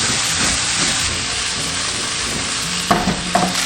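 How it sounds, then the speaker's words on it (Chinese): Beef with water bamboo and green and red peppers stir-fried in a wok over high heat with cooking wine, a loud continuous sizzle and hiss with a couple of sharp spatula scrapes near the end. "沿锅边淋入料酒，大火翻炒30秒"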